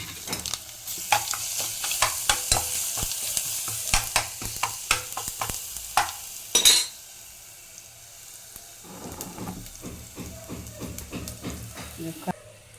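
Garlic and curry leaves sizzle and crackle in hot oil with busy spatula scraping and stirring, a brief loud hiss midway, then quieter frying.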